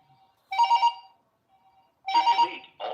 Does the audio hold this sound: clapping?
no